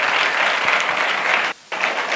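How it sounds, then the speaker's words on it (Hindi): A congregation at a church service claps loudly and steadily in a dense, even roar of applause, with a brief gap near the end before the clapping resumes. "इसलिए जोरदार बजाएं उसके लिए ताली।"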